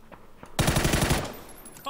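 A rapid burst of automatic gunfire from a first-person shooter game crackles loudly for under a second, trailing off into quieter game ambience.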